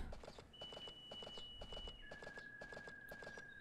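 A horse clip-clops along in the farming game Story of Seasons: A Wonderful Life, a steady rhythmic trot of hoof beats close by, with a thin sustained tone running underneath and no one talking.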